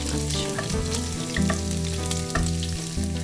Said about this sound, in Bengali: এখানে আমি হ্যাঁ রসুন কুচি দিয়ে দিচ্ছি